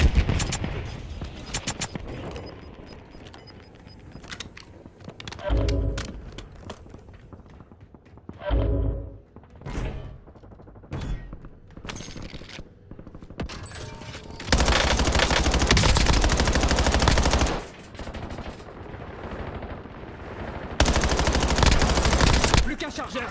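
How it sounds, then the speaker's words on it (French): Gunfire in the video game Warzone: bursts of automatic fire and single shots, close and loud, alternating with quieter gaps and footsteps, with long sustained volleys in the second half. "Tout de suite des tirs."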